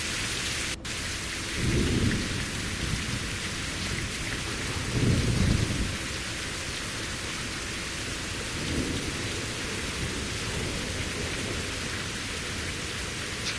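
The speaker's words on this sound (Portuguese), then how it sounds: "A chuva é monstruosa." Steady heavy rain in a racing video game hisses throughout while three deep rolls of thunder rumble through at intervals, loud and close, with no one speaking.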